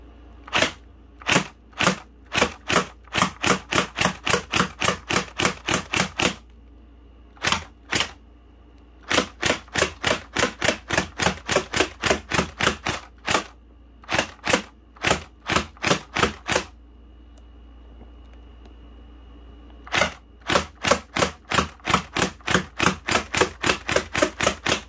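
A Surge XL gel blaster fires single shots in rapid runs of sharp, clicking snaps, close and loud, grouped into bursts separated by short pauses, with no talking.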